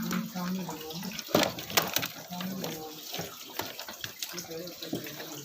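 Water gushes and splashes through the sediment filter of a Livpure water purifier during a back flush, an uneven running flow with bursts and gurgles, close and moderately loud.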